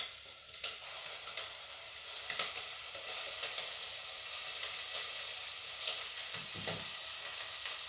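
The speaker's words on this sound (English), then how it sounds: "Is there any better sound? My bacon's cooked enough" Bacon sizzling in a pan for smoked haddock chowder, a continuous bright crackling hiss with scattered pops and occasional stirring sounds, steady and close throughout.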